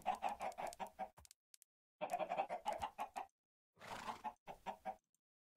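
Minecraft chickens clucking in short, close bursts of rapid clucks separated by brief silences, with no talking.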